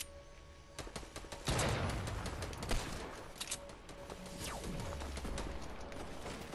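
Gunfire in a video game: a cluster of loud shots and rattling bursts, the heaviest around the middle, over low rumble, with no clear speech.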